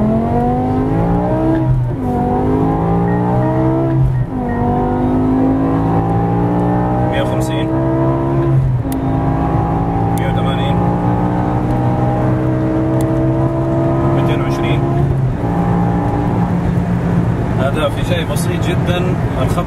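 Modified 560 hp BMW M5 with a 5-litre V10 accelerating hard in Jeddah, its engine note climbing through repeated gear-by-gear rises with brief dips at each shift, loud and close throughout while someone talks over it.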